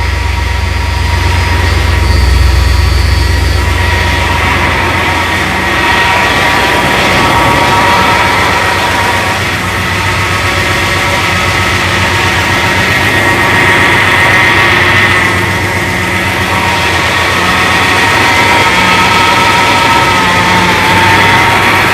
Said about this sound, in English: Power steering must be empty because it's noisy